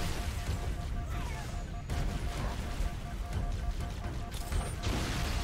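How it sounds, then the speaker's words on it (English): Dense, continuous explosions and gunfire from the Halo game, a crowded battle with repeated blasts and booms layered throughout, steady and loud with no clear pauses. "There are so many explosions."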